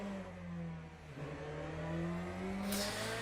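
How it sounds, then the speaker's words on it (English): A hypercar or LMP2 prototype race car engine drones and revs steadily in the racing game Le Mans Ultimate, with a smooth rising whine heard quietly throughout. "it sounds like you went out with a hypercar or LMP2"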